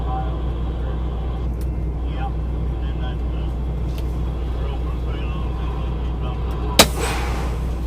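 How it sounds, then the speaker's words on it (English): A delivery truck idles with a steady low engine drone, then gives one sudden, sharp burst of air from its brakes near the end. "Set my brakes."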